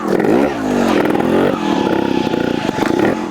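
A Vertigo RS2 2024/25 trial motorbike pulling off up a hill, its engine revving loudly and close, rising in pitch, dipping, then accelerating again with clattering under the throttle.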